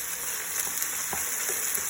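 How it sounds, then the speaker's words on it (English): Onion and seasoning sautéing in a pan for Jamaican ackee and saltfish, a steady soft sizzle with faint scattered crackles and pops, continuous and fairly quiet throughout with no voices. "I'm going to let that saute for about 3 to 5 minutes or less"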